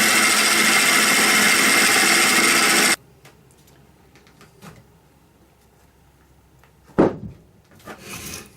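A woodturning lathe cuts a tenon and parts off a piece, starting with a loud rough scraping for about three seconds, then dropping to a quiet hum broken by a few short taps and one sharp knock.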